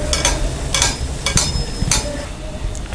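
Atta malpua batter frying in ghee in a pan, a steady low sizzle with a few sharp clinks of a utensil against the pan recurring about every half second.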